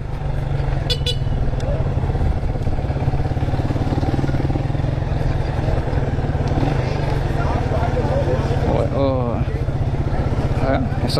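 A Bull Café Race Classic B31 200cc motorcycle from 2017 rides with a steady, loud engine drone throughout, a brief horn-like toot near the end, and someone talking over it.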